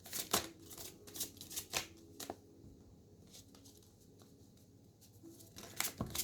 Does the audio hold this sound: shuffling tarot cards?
yes